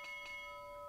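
A ship's bell in Roblox Titanic rings twice in quick succession, each stroke leaving a long, faint metallic tone sustaining underneath.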